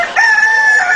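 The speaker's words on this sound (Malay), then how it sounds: "ayam ni lambat lagi yang nak bunyi" A rooster crows once, loud and close, a single sustained cock-a-doodle-doo lasting about a second with no other sounds around it.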